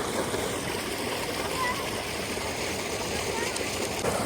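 A steady, dense rush of fast-moving water fills the scene without pause, close and fairly loud.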